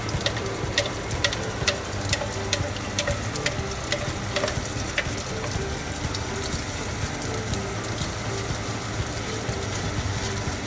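Sambal chilli paste fries steadily in a pan, giving a constant close sizzle and bubbling with scattered sharp spits and crackles throughout.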